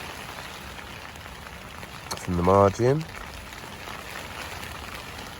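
February rain falls on a carp fishing session at a lake in Kent, a constant broadband patter. Someone speaks briefly in the middle.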